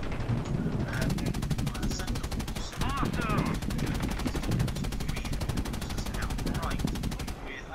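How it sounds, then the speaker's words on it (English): Rapid, continuous machine-gun fire from B-17G bomber gunners in War Thunder, loud sustained bursts under a steady engine drone with brief pauses, while a player talks over it. "Freaking gunners, shoot him!"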